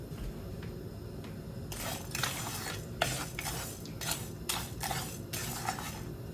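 Whole spices for pho toast in a hot pan, giving a steady dry crackle with sharp bursts of scraping and popping as they are stirred, fairly close and with no voices.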